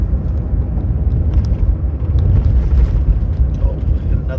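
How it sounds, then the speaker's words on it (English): A car drives along the Dempster Highway, a remote gravel road, giving a loud, steady low rumble of engine and tyres with wind buffeting the microphone throughout. "hopefully it gives you a good view of what it's actually really like driving on the Dempster"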